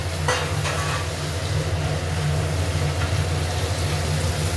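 Fried potatoes stirred into gravy in a pan for a catla fish curry give a dense, loud, steady sizzle with a low hum underneath and a couple of soft utensil scrapes near the start, no speech.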